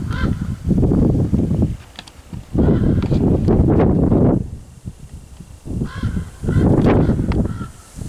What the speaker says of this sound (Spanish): ahí están los cuervos